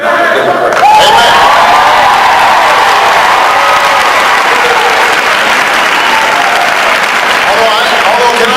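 Town hall audience breaks into sustained, loud applause with some cheering and whoops, a dense crowd clapping that continues steadily throughout.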